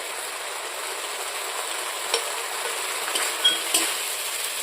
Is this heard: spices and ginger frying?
yes